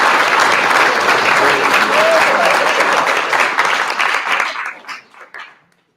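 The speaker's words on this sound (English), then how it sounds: "I would like to ask you to welcome our illustrious panel with a round of applause" Audience giving a round of applause to welcome a panel at an event, loud and dense at first, then thinning out and trailing off into a few scattered claps.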